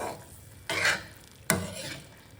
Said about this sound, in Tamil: நல்லா அப்படியே சுருள வதங்கணும்.